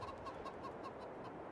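Chickens in Farming Simulator cluck softly in quick repeated bursts over a low steady background hum.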